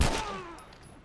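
A single gunshot in The Last of Us Remastered, a sharp loud crack at the start that quickly decays into a fading tail, with nothing following it.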